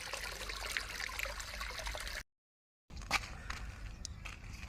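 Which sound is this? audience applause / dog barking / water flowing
water flowing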